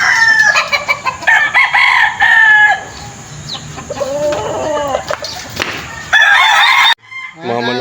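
Gamefowl roosters kept on a farm in Bulacan, crowing and clucking loudly and close by over several seconds, with bursts of other fowl calls and no talk.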